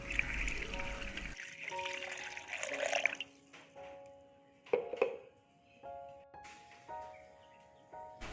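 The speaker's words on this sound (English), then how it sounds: "We add 500 milliliters of water" Water, 500 milliliters, pours into a blender holding beet and carrot pieces in a brief rushing splash at the start, followed by quieter ringing tones and a few scattered knocks.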